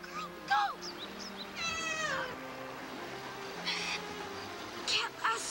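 A cat called Cat Lassie in the TV sitcom Go Fish gives several distinct meows, some short and one drawn out, over a low background hum with some voices present.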